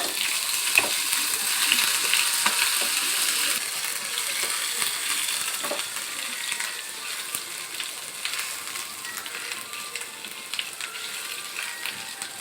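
Cumin seeds and ginger garlic paste fry in hot oil in a pan, giving a steady, close crackling sizzle with small pops that fades slightly over time, with no speech.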